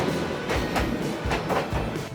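A train rolls close by along a narrow Hanoi street, its wheels clacking over rail joints in a loud regular rhythm beneath a continuous rumble, with no talking.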